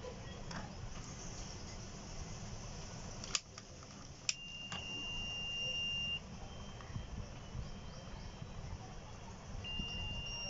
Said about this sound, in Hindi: देखिए इस बार ये बीप दे रहा है, इसका मतलब ये लाइन ठीक हो गया है।